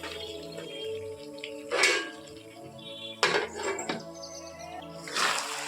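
A lid is set over a pan of chicken cooking with capsicum, giving a few sharp metallic clinks and clatters spaced a second or so apart over a low background of cooking noise.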